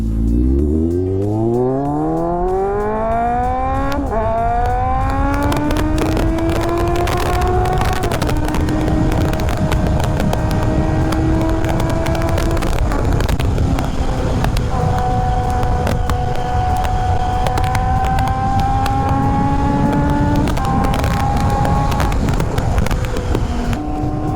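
A Kawasaki Z800 with an inline-four engine accelerates hard from first gear toward 100, its loud engine note climbing steeply in pitch, dropping at each upshift and rising again across several gears under strong wind noise.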